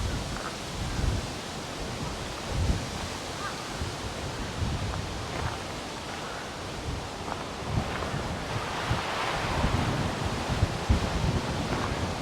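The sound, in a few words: wind in Hamarikyu Gardens, Tokyo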